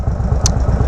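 A GD Warrior motorcycle fitted with a loud Speedster exhaust rumbles steadily at close range in the rain, a continuous low engine drone throughout.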